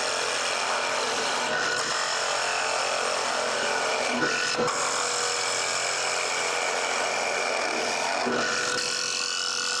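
Finishing cuts on wood spinning on a lathe in a woodturning class, a continuous loud hiss and whir of the tool shaving the turning piece, with a few brief dips, and no one speaking.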